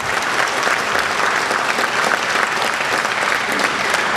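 Audience applause at the 106th Rescue Wing's 100th anniversary ceremony in Westhampton, a steady, dense wash of clapping from a large crowd that holds evenly throughout without voices.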